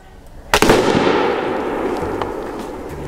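A loud, sharp airgun shot strikes a set of five backyard targets, a single close crack followed by a fading ringing decay.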